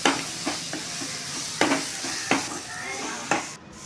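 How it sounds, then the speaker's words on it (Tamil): Onion, ginger-garlic paste and tomato sauté in oil for a home-style chicken kuzhambu, a low sizzle punctuated by several sharp spatula knocks and scrapes against the pan at irregular intervals, close and unaccompanied by voices. "இன்னொரு பாத்திரத்தில் எண்ணெய் விட்டு பெரிய வெங்காயம், இஞ்சி பூண்டு விழுது, கட் பண்ணி வச்சுருக்க தக்காளி எல்லாத்தையும் நல்லா வதக்கணும்"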